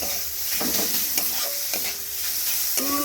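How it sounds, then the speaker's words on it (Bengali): Grated radish with spices stir-fried in oil for radish paratha filling: a steady close sizzle with repeated scraping strokes of a spatula against the pan, no voices. "পুরো ভালো করে এর সঙ্গে কষিয়ে কষিয়ে পুরো মিশিয়ে নেব মশলাটাকে"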